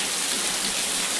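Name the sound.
heavy rain falling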